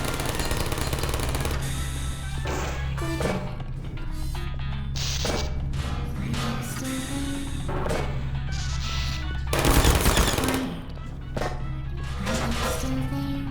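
An Aperture Science turret in a video game fires rapid, loud bursts of gunfire that run almost without pause over constant game music, with mechanical clatter and one heavy crash partway through.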